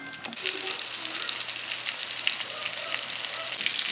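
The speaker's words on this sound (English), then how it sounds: "And in it goes into the buttery cast iron skillet." Breaded food fries in butter in a cast iron skillet, producing a steady, dense sizzle with fine crackling up close that runs unbroken and alone.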